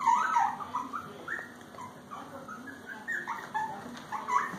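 Young puppies from a litter let out repeated thin, high whimpers and whines, fairly faint and scattered throughout.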